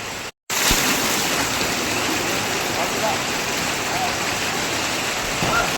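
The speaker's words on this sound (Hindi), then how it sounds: "ये देखो आज बारिश का दिन है" Steady, heavy monsoon-style rain hisses continuously after a brief cutoff at the start, with water splashing and running, loud and close, at an outdoor Shiv Mahapuran religious gathering.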